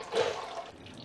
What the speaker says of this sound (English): while the drain pan is still dripping